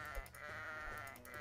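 Sheep in the Kingdom Rush video game bleat in a short burst, a wavering nasal cry with a soft click or two, faint and alone.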